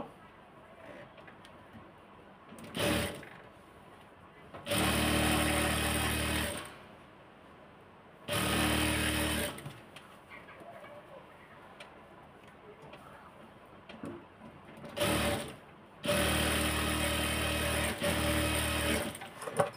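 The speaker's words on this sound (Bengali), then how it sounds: "আমি সবগুলাই কিন্তু ডাবল সেলাই দিয়ে দিলাম" Sewing machine stitching a salwar with double seams, running in several separate loud bursts of a few seconds each, with quiet pauses and faint talk between them.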